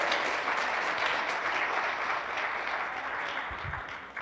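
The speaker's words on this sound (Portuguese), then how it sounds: "Você pode aplaudir o Senhor por isso," A church congregation applauds in a steady, dense wash of many hands clapping, sustained and moderately distant, fading slightly at the end.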